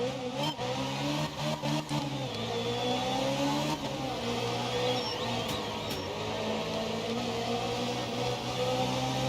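An Alpine A110 Group 2 rally car engine drones steadily at high revs in a racing game on a short snowy tarmac stage, with pitch sweeps as it shifts and accelerates, close and loud, with no talking.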